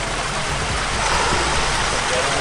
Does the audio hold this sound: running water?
yes